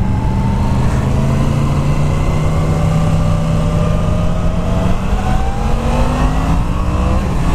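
A 2016 Yamaha FZ-10 motorcycle engine accelerating on a ride, loud and close, with rising revs that sweep upward through the gears in a sustained roar and no talking.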